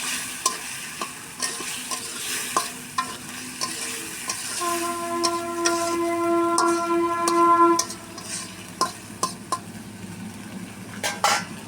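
Pigeon meat frying and being stirred in a pan for a Bangla curry, steady sizzle with repeated sharp scrapes and clinks of a spoon against the pan, a brief tonal horn-like sound in the middle.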